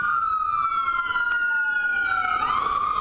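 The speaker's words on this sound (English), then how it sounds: "And here comes an ambulance" An ambulance siren wails loud and steady as it passes along Vine Street at night during civil unrest, its sweeping tone sliding downward near the end as the vehicle moves away, with traffic noise beneath and no talking.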